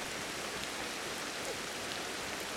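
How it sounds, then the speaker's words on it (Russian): Steady rain falls in Ancestors: The Humankind Odyssey as a constant, even wash of hiss with soft patter, unchanging throughout and free of voices. "Блин, опять холодно, дожди начались."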